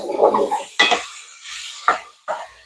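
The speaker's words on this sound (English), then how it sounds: "Get something to stir that with." A utensil stirs browning food in a pan on a home kitchen stove, making a few close, separate scrapes and clinks against the metal with short quiet gaps between them and no talking.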